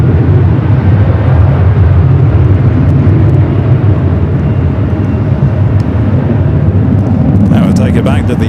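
Heavy airliner departing from a runway at LAX, a loud, sustained low rumbling roar that holds steady before sharper noise breaks in at the end.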